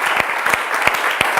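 Short round of applause in a Bible institute theology class, a steady wash of many hands clapping with a few louder individual claps popping through, close and even.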